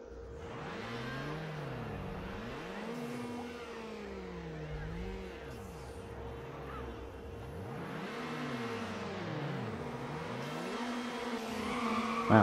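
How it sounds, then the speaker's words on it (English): Car engine revving in the Need for Speed Underground racing video game, rising and falling in repeated swooping sweeps at moderate level with a steady tone underneath, ending in a brief louder burst. "the revving of the engine seems to almost not care at all about how I press the X button"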